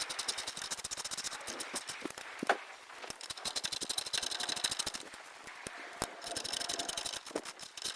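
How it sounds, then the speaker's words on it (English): Loose metal pieces jangle and rattle inside a carried toolbox, a busy, close clatter of rapid small clicks that runs throughout with brief louder knocks. "all the sodding pieces will just fall out and you can hear it jangling around as you're carrying it"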